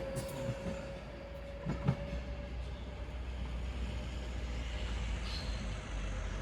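A Class 390 Pendolino pulls out of Stoke-on-Trent bound for Manchester Piccadilly, a low, continuous rumble with a faint whine and a couple of soft clanks, heard at a moderate distance.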